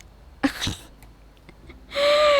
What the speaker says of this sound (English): It made us want to sneeze.